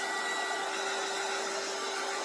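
A hair dryer blowing on freshly scraped acrylic paint, a steady, loud whirring hum with a constant tone and no pauses.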